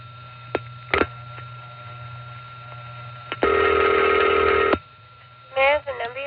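Telephone signalling on a 1974 Bell System crossbar 5 exchange office in the 914 area of New York: a steady hum under a short ringing burst, clicks, then a loud sustained tone, followed by brief chirping tones.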